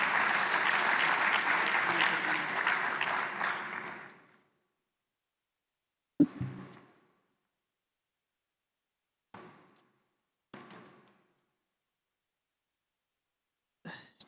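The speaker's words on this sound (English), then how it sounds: "A big round of applause for Mr." Audience applause at an education ceremony, a broad sustained round of clapping lasting about four seconds before fading, followed by a few brief isolated knocks and thumps in a quiet hall.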